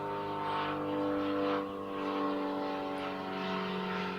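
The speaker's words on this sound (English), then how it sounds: "And there's a plane flying around outside." A crop-dusting plane flying around outside sets up a steady droning hum with a layered engine tone that swells slightly and fades, continuous and moderately distant, with no talk over it.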